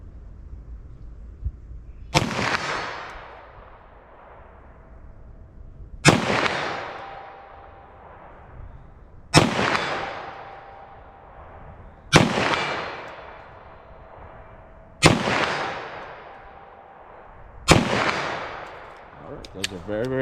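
Six loud 357 SIG handgun shots fired at a range, spaced about three seconds apart, each a sharp crack with a ringing decay. Quiet pauses fall between the shots.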